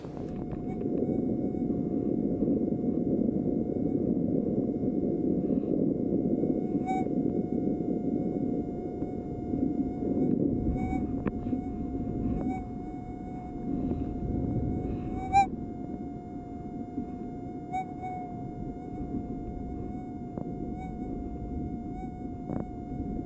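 A pulse induction metal detector on the beach holds a steady, thin electronic drone with faint harmonics, rising slightly in a few short blips as the coil sweeps over the sand.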